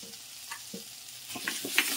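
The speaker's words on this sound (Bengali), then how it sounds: "আমি 2-3 মিনিট এই সর্ষে দিয়ে একটু ভেজে নেব" Mustard paste frying in a pan with drumstick and potato, a soft sizzle punctuated by faint stirring scrapes, close and quiet.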